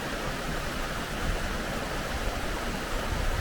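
The Kluftafossa waterfall in the Faroe Islands rushes as a dense, steady roar of falling water, continuous and unbroken throughout.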